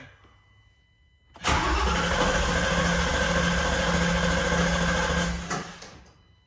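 Ford Mustang S550 with an upgraded fuel pump and injectors, a loud steady electrical whir and engine-bay hum that starts abruptly, holds for about four seconds, then cuts off, heard close without talking.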